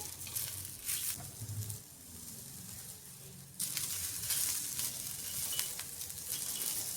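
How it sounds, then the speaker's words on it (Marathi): Green chillies and peanuts roast in a hot pan for a raw mango thecha, giving a steady crackling sizzle with brief stirring scrapes, continuous and close, with no talk. "मिरचीला आणि शेंगदाणे असे छान काळे डाग पडलेले आहेत, काळे डागपर्यंत आपण छान परतून घेतले"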